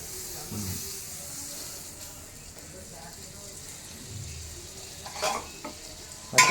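Butter rubbed across a hot dosa pan for a cheese onion carrot dosa, giving a steady soft sizzle with scraping strokes and a few louder clatters near the end, fairly close and moderate in level.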